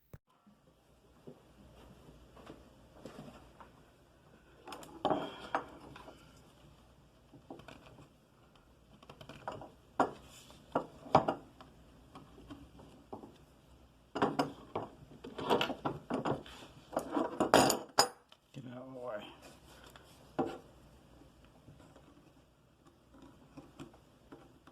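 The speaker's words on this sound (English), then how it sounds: "What I'm doing is just using my pocket knife, which is good and sharp, to just go ahead and put a nice little bevel on these edges" A sharp pocket knife shaving small bevels along the edges of a piece of wood, heard as a series of short, dry scraping strokes in clustered bursts with brief pauses between, close and fairly quiet.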